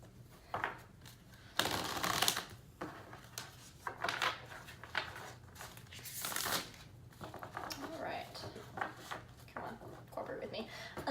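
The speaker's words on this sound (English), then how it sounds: "So I'm just gonna shuffle one more time, and then I'll be ready to cut the deck." Tarot cards are shuffled repeatedly, soft riffling bursts and papery flicks coming in uneven waves, quiet and close.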